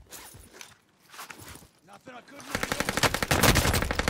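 Armaguerra submachine gun firing in a video game, a rapid rattling burst that follows a few seconds of quieter movement sounds and a brief voice.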